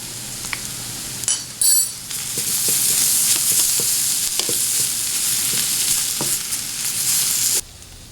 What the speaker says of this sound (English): I'm going to stir in these ingredients and cook it for 5 more minutes.